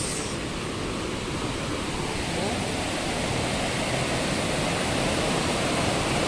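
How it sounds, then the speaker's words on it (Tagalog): Estrella Falls pours in a steady, dense roar of rushing water, loud and close, with no voices breaking the broadband wash. "Ayan yung falls guys"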